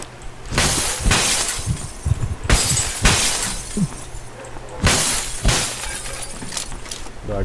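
Glass windows shatter in the PUBG Lite video game, with three or four loud crashing breaks spread across the clip, each followed by tinkling fragments.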